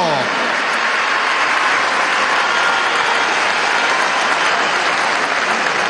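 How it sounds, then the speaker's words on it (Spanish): Dense, loud applause from a large crowd at a governor's swearing-in ceremony in Barinas, sending off children who had just performed; a continuous, even roar of clapping that holds steady throughout. "Vamos a despedirlas con un aplauso"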